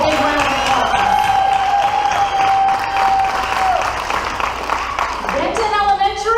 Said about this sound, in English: Let's give Princeton a big round of applause